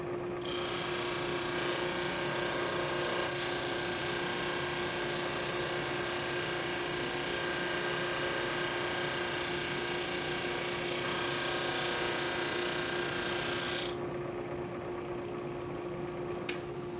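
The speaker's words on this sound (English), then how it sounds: "Next, turn on the drum motor and then the feed belt." A drum motor starts and a feed belt follows in a woodworking shop, a steady mechanical whir and drone with a rattling edge that runs throughout and drops partly near the end.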